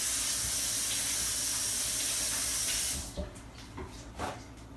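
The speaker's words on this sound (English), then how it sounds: "Let me wash my hands." Tap water runs in a steady loud hiss while hands are washed at a kitchen sink during pineapple dessert cooking, then cuts off after about three seconds, leaving faint clinks and handling noises.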